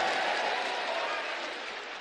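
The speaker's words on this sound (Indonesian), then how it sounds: "Tepuk tangan dulu." A church congregation claps together, a dense steady wash of applause that fades slightly over two seconds.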